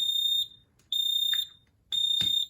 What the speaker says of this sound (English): after you find that a smoke detector has tripped